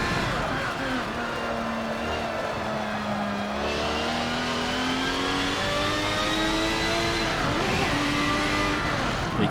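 Car engine in the Forza 7 racing game, pitch sliding down and rising again as the car slows on engine braking and accelerates, loud and continuous throughout.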